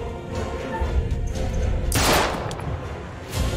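Gunfire in the horror video game The Dark Pictures: Little Hope, a loud burst of rapid shots over a rumbling, tense ambient backdrop, with the blast peaking midway then fading.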